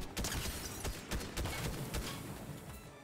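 Repeated gunshots from a Fortnite match crack out in an uneven series of sharp bursts, fairly faint under a noisy game background.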